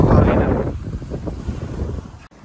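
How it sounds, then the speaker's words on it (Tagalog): Strong, cold wind on a residential street in Canada roars and buffets the microphone, loudest at the start, then settling into a rough, gusty rumble before cutting off. "Lakas ng hangin guys"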